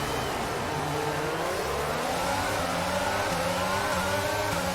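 Engines roar loud and continuous as a pack of F1 race cars accelerates off the start at Abu Dhabi in the F1 22 video game, with revs rising steadily.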